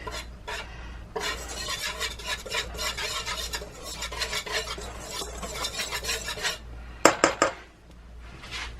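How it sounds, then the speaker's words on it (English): A whisk scrapes and stirs zucchini bread batter in a bowl, a close, busy rasping and clinking that comes in bursts with short pauses, ending in a few sharp taps against the rim. "I'm using a whisk because I like the way that the whisk mixes stuff."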